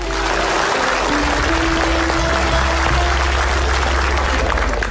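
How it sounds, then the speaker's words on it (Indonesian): Studio audience applause on a comedy talk show, steady loud clapping throughout, with a voice speaking over it. "Tepuk tangan dong buat kita."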